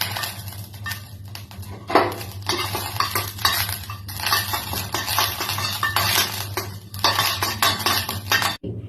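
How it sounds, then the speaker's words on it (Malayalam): Curry leaves frying in oil in a pan for wheat rava vegetable upma, heard as a constant sizzle under busy metallic scraping and clinking of a spoon against the pan, close and fairly loud. "ആദ്യമായിട്ട് നമുക്ക് ഈ കറിവേപ്പില ഒന്ന് മൂപ്പിച്ചെടുക്കാം"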